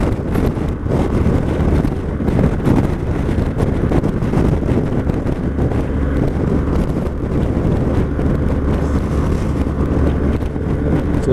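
Strong, continuous wind buffeting the microphone while overtaking a line of wagons on the road, a loud low roar that surges and holds steady without letting up.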